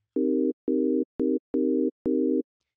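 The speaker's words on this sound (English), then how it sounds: "we need to change this into a sine wave" Pure sine-wave synth tone from the Serum plugin, five short sustained notes at one pitch with gaps between, each starting with a small click, clean and alone.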